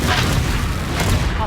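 Spell explosions from the Confringo and Bombarda charms in the Hogwarts Legacy video game, loud dense booming blasts layered over a shouting voice.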